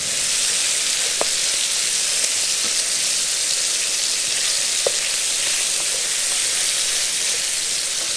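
Thin-cut Mexican bacon fries in a small pan, giving an even, close sizzle throughout with a couple of sharp pops.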